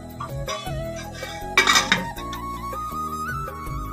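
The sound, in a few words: covering the cooking pot with a lid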